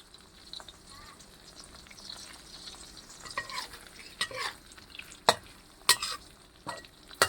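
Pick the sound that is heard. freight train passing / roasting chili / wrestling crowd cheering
roasting chili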